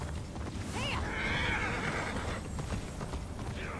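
A horse whinnies loudly and close in the video game Immortals Fenyx Rising, a sharp rising neigh followed by clip-clopping hooves and faint creaking tack.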